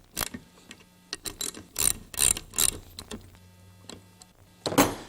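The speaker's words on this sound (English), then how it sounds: "Got to tighten up these wheel cylinder bolts yet." Ratchet wrench tightening brake wheel cylinder bolts during a brake overhaul, close and fairly loud, with irregular bursts of rapid clicking ratchet strokes separated by short pauses.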